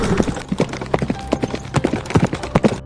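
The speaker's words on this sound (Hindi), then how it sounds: "अपने घोड़े पर बैठकर वहाँ से निकल जाता है" Cartoon horse hooves clip-clopping in a quick, even rhythm as a horse rides away, close and clear with no talk over it.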